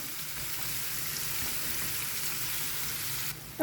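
Beetroot stir-fry fries on a high flame in an open pan, a steady loud hiss and crackle of sizzling oil that dips briefly near the end before a sudden louder bump; no speech.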